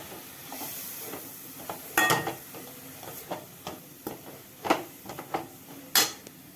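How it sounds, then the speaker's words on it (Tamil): Grated or chopped carrots sautéing in ghee for a carrot payasam, with soft sizzling and intermittent scraping stirs of a spoon against the pan, close up and with no talking. "கேரட்டை நல்லா வதக்கி எடுத்துட்டேன் நெய்யில்"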